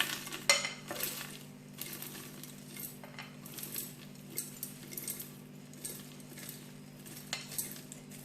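Whole garam masala spices tipped into a grinder jar: small hard pieces clatter and tick against the container in scattered light bursts over a steady low kitchen hum, fairly faint.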